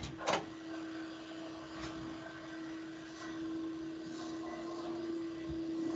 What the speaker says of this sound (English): I'm going to see if I can get them to turn that vacuum cleaner off.